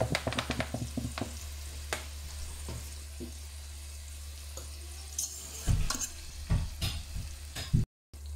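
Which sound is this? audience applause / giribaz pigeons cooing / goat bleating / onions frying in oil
onions frying in oil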